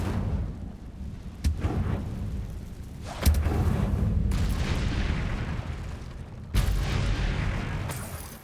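Incendio fire spell cast repeatedly in the Hogwarts Legacy game, bursting with sharp whooshing blasts at intervals over a steady rumbling fiery roar, loud and close with no talking.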